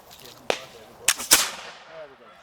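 Black powder historic firearm fired outdoors: a sharp crack, then a louder double report with a reverberant decaying tail, with a faint voice at the very end.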